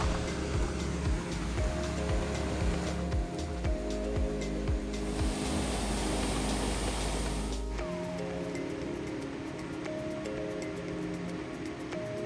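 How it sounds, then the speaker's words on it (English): A waterfall near Juneau, Alaska rushes steadily in a broad, continuous wash of water noise at close range, with some intermittent tonal hum and no voices. "There's a waterfall right down the street."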